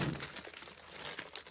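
Pink tissue paper crinkling close by, a soft continuous rustle with small crackling bursts, faint and without speech.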